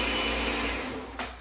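A Ninja blender whirs steadily as it blends a smoothie, a loud close motor roar that holds even, then dips slightly near the end.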